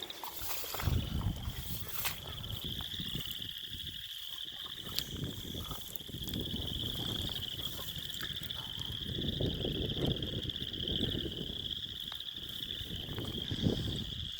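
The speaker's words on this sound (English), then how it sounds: "with all this croaking and warmer weather" Wood frogs and chorus frogs call together from a pond along Moss Lake Trail at Elk Island, a steady distant chorus with a continuous high trill running beneath low soft clucking, faint and unbroken.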